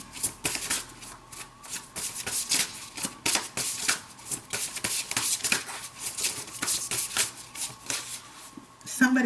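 Tarot cards shuffled by hand in a dense run of crisp riffling flicks and slaps for a Gemini reading, close and steady throughout, ending with a small tap.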